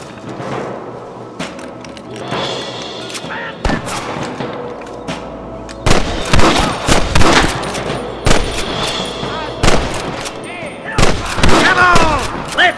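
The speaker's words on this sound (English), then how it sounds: "Good shooting, boy!" Gunfire in the Western video game Red Dead Redemption: repeated sharp gunshots and louder booming blasts in irregular bursts, close and loud, with voices shouting among the shots.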